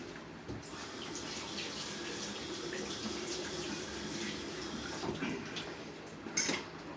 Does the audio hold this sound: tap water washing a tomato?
yes